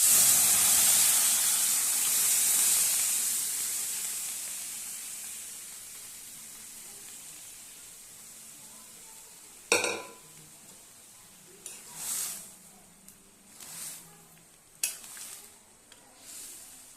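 Boiled peas go into spice masala for ghugni, frying loudly in a pan with a strong hiss that fades, followed by several scattered metallic clinks and scrapes of a spoon.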